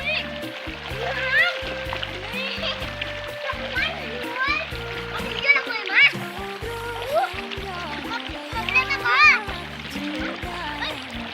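Stream water splashing and trickling in a rural Lao mountain village, a steady wash close by with frequent splashes, while children talk and call out over it.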